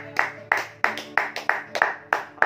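A church congregation claps hands in unison, a sharp, regular beat of about three claps per second repeated eight times, sounding close and resonant in a reverberant hall.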